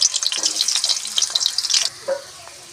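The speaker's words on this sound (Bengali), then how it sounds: "আমি আলুগুলো কুচো কুচো কেটে নিয়েছি, কড়াই তেল দিয়েছি, তেল গরম হয়ে এসছে, আলুগুলো ওর মধ্যে ভেজে নেব।" Finely chopped potatoes fry in hot oil in a karai, a bright, crackling sizzle with close scraping stirs that stops abruptly after about two seconds, followed by a brief clatter.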